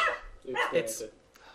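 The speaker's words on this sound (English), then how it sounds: "That's a dog." A dog barks a few times nearby, its yips and woofs mixed with someone talking on a gaming podcast.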